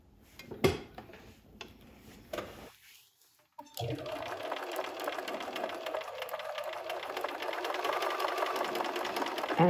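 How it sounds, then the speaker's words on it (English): A sewing machine stitches fabric for an improv quilted Christmas tree, running in a fast steady whir after a few clicks and a brief pause, with someone talking over parts of it. "So now I'm going to stitch the white to the tree."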